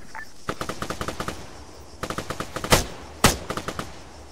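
Soldiers firing weapons in the video game Arma 3: rapid machine-gun bursts of sharp, evenly spaced shots, two longer volleys broken by a pause, with two louder, heavier blasts near the end. The fire is loud and close.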